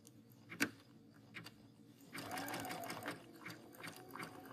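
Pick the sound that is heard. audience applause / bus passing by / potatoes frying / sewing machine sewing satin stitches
sewing machine sewing satin stitches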